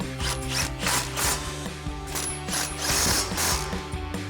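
A cordless impact wrench with a 21mm socket drives lift kit bolts on a 2004-2020 Ford F-150, giving rapid mechanical hammering rattles in short repeated bursts, loud and close, with no voices.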